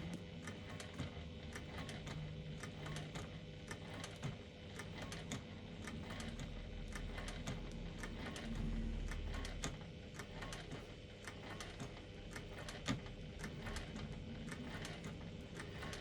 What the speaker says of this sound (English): I'm stitching at 1/8 of an inch around the outside edge of my overlay.